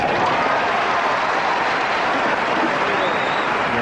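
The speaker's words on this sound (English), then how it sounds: "This clap we hear from the crowd now is one that says we want a tennis match here" A tennis crowd at Forest Hills claps during the 1985 final between Ivan Lendl and John McEnroe, a dense, even wash of applause that holds steady and loud throughout.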